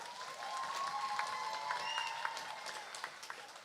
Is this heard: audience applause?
yes